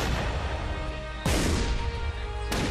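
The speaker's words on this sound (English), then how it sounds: "He's got fireworks. Oh my god, fireworks." Fireworks weapon bursts in the artillery game Shellshock Live, two loud booming explosions about a second apart, each followed by a long crackling, rumbling decay under a constant noisy bed.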